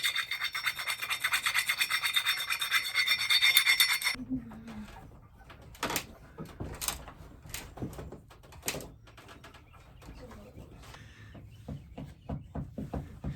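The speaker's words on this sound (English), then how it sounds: "I'm gonna get this file here, this chainsaw file, and put down in the eye of this" Rough rasping of a chainsaw file scraping back and forth in the eye of a steel Evansville axe head for four seconds, followed by scattered knocks and scrapes.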